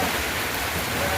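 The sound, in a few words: heavy rain falling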